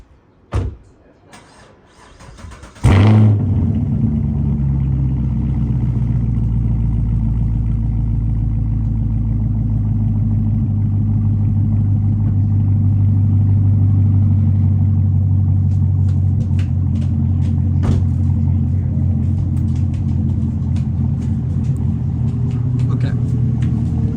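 A 2018 Chevrolet Camaro SS V8 cranks and fires up after a few clicks, then settles into a loud, steady idle rumble that continues throughout, close by.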